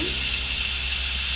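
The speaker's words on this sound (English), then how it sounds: "my pressure cooker has completed, and I let it sit for 9 minutes before I'm releasing the steam" Instant Pot pressure cooker venting steam after a pig feet recipe, a steady, loud, close hiss that holds constant without pause.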